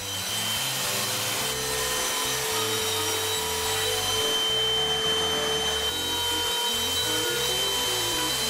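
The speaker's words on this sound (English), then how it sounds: "then just move the router to the next position and route it out again like that" A router cuts a miter track slot in wood, a loud, steady high whine with a grinding cutting texture that runs close up and uninterrupted throughout.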